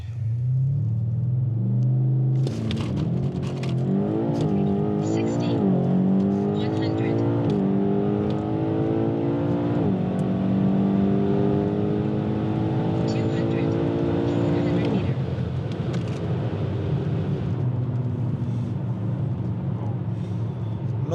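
A BMW M8 F92 accelerates hard through a 0-100 km/h run, its loud engine note climbing steeply and dropping back at several quick upshifts, heard from inside the car. The revs then settle into a steady roar.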